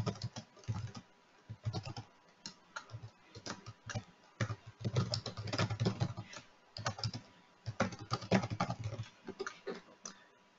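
Typing on a computer keyboard: steady runs of close, crisp key clicks in bursts separated by short pauses, with heavier thumps from the space bar, no talking.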